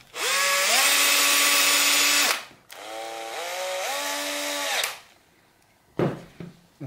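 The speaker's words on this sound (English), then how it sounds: "This is a very long procedure unless you have an electric drill" A cordless drill drives screws into a Gibson Non-Reverse Firebird guitar, whirring in two long bursts, its motor pitch rising as it spins up and falling as it slows, with a faint knock and clatter at the end.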